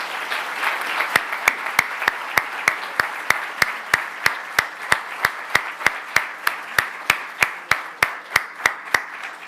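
Audience applause for honoree Juan Cruz Ruiz at a journalism biennial award ceremony: steady sustained clapping from a crowd with sharp individual claps punctuating it, continuing throughout at moderate level without speech.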